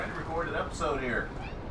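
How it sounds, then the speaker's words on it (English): A house cat meows close by in a few drawn-out, wavering calls, mixed with someone speaking in the same moment. "Cat?"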